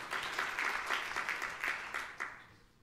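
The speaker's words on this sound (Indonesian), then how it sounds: "Tepukan yang meriah untuk kemuliaan nama Tuhan" Church congregation applause, a steady wash of many hands clapping that fades out toward the end, with no talking over it.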